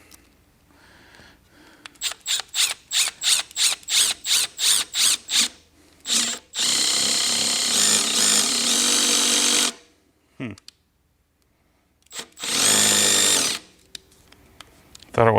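Milwaukee M12 Surge cordless driver running in a string of short, rapid bursts, then longer sustained whirring runs broken by pauses, loud and close with a faint voice in between.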